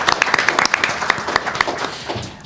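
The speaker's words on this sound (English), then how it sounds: "So everybody please give Larry a round of applause." An audience at a talk on homelessness claps for Larry Rubin, a brief burst of scattered hand claps that thins out and fades over a couple of seconds.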